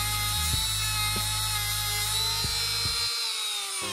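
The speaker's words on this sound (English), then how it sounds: "I'm going to Dremel tool for that. And basically I'm just gonna grind away on this, make her sit lower" A Dremel rotary tool grinds away at a plastic seated figure for a model train passenger car, a loud, close high-pitched whine with the motor's pitch dipping under load a few times.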